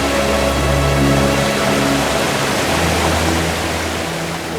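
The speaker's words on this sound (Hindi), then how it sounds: "तू झरना देख रहे हैं ना?" A waterfall roars as a steady, loud wash of falling water, constant and close with no pauses, with no talk heard.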